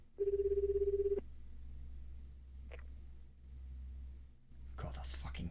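A phone rings in the YOU and ME and HER video game, a rapid electronic trill repeating for about a second, then cutting off against a low ambient hum.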